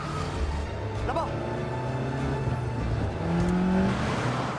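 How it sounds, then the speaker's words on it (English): A car chase in the French series Lupin: engines drone and rev with a brief tire squeal among traffic noise, moderately loud and continuous, mixed with dialogue. "So you see they're in a car chase"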